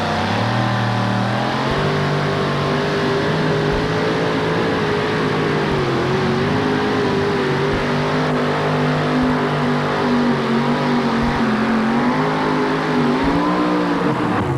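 A Chevy S10 pulling truck roars through a tractor-pull run at a 1988 NTPA event in Syracuse, its engine screaming loud and sustained, with the pitch rising and wavering as it strains down the track.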